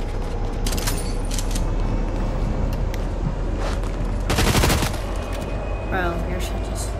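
Gunfire in the video game Fortnite, bursts of rapid shots and scattered single cracks over a busy game soundscape, fairly loud, with a person talking at times.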